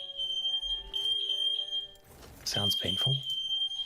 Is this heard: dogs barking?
no